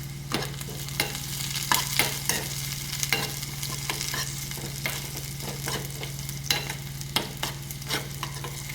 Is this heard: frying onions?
yes